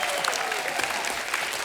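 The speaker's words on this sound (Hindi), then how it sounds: "सोनम जी के लिए जोरदार तालियां" Applause from a comedy TV show studio audience for a guest, a dense continuous wash of many hands clapping at close, even loudness, with a faint voice briefly over it.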